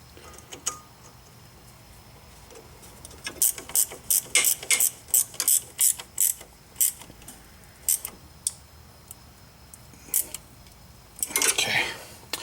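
A hand ratchet tightens the front strut bolts on a 2005 Chrysler Town & Country, with quick bursts of sharp clicking separated by pauses and a faint background hum.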